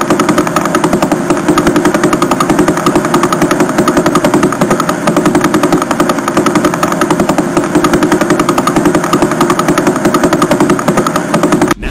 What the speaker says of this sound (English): When converted into audio, it becomes a repeating tick, tick, tick like a cosmic heartbeat.